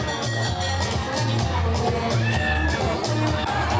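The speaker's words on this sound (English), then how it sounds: "The crowd hyped." Crowd aboard the Carnival Glory cruise ship on embarkation day cheers and whoops over loud, pulsing music, with constant babble throughout.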